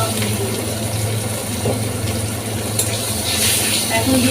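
Water spinach with fish and tomatoes being stirred in a pan over a steady low hum, with a soft continuous sizzle and occasional scraping movements.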